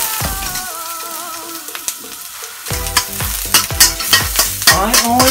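Garlic fries in a pan while a spatula stirs it, loud crackling sizzle broken by repeated sharp scraping and clanking strokes that grow busier toward the end, with no talk.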